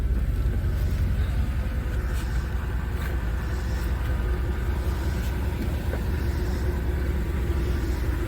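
The engine of a 1988 Chevy OBS truck runs steadily with a low rumbling idle, heard from inside the cab with faint rattles and road noise.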